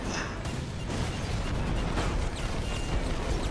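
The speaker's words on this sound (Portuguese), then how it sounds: "É muito tiro." Heavy gunfire and explosive bursts roar through combat in the video game Prototype 2, with dense overlapping shots and blasts forming a loud continuous barrage.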